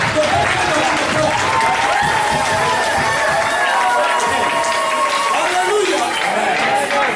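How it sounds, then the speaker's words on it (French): A church congregation applauding a couple, sustained loud clapping from a large crowd throughout, mixed with voices and scattered cheering. "Nous acclamons pour le couple Christ. We must applaud for the couple."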